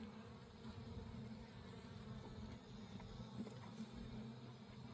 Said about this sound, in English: Not happy bees.